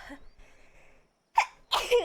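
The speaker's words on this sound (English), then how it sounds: "Jeez, that was a big sneeze" A single loud sneeze from a man with allergies, a sharp wet burst of breath following a brief quiet inhale, close to the mic, with faint background game music before it.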